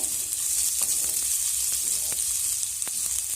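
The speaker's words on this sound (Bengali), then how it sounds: "পেঁয়াজটাকেও আমি আদা, রসুন আর কাঁচা লঙ্কার সঙ্গে ভালো করে নেড়ে চেড়ে ভেজে নেব।" Onion sizzles steadily in a pan with ginger, garlic and green chilli, a close, constant hiss broken by a few light stirring clicks, and nobody talks.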